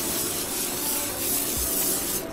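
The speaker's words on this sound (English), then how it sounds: "Olive oil spray." Olive oil sprays onto a hot pan while cooking in a campervan, producing a continuous close hiss that holds steady for about two seconds.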